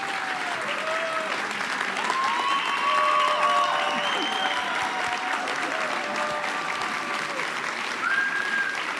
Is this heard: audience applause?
yes